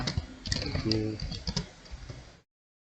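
A name typed on a computer keyboard, a quick burst of clicky keystrokes under a speaking voice, close and fairly loud, stopping abruptly after about two seconds.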